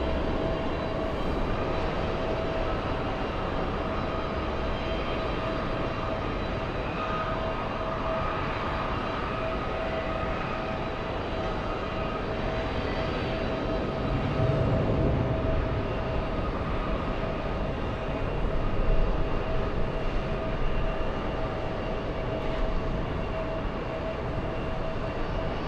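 A Delta airliner, flight 287 from Milan, on arrival at JFK airport: a continuous distant jet engine drone and rumble that swells slightly midway, steady and fairly faint, with no voices.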